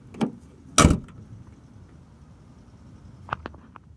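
The door of a 1999 Ford Explorer with a new outside handle slams shut with a loud thud, and a few lighter latch clicks and knocks follow a few seconds later.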